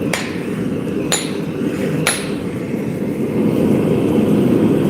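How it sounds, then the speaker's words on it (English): A power hammer with a swage tool strikes a large piece of steel being forged into a blade, three sharp metallic blows about a second apart over a loud, continuous machine roar. "I'm going to use the power hammer and a swage tool since this is so much metal"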